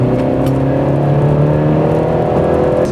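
A 2019 BMW 330i in sport mode making a full-throttle pull: a loud, steady engine drone with strong low harmonics, heard from inside the car, sustained without gear changes for three seconds.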